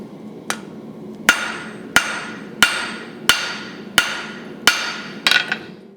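A blacksmith's hammer strikes metal on an anvil while forging a leaf, seven sharp ringing blows at a steady pace of about one per second, close and alone, the last a quick double hit.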